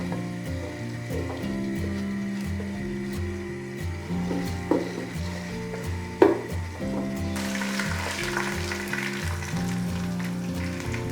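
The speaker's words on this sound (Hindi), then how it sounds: "अच्छी तरीके से हिलाना है ताकि साइड पे ना लगें, हमारे प्याज एक जैसे गोल्डन हो।" Onions frying toward golden in a pan, stirred steadily to keep them off the sides, a close continuous sizzle with clattering spoon scrapes and two sharp knocks, the hiss swelling louder near the end.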